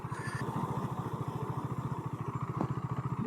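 Steady pulsing single-cylinder putter of a KTM Duke 390 motorcycle cruising at an even pace, with a rhythmic engine beat throughout and light wind noise, heard from the rider's position without talk.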